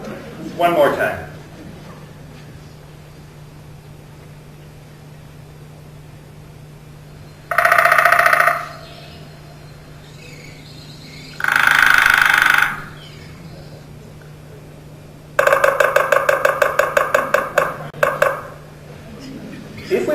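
Bird song plays in separate phrases: a couple of buzzy bursts, then a fast run of repeated chirps, with quiet stretches in between.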